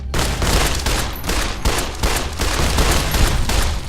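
A 10mm pistol in Fallout: New Vegas fires a rapid string of loud, close shots in quick succession, each crack following the last with barely a pause.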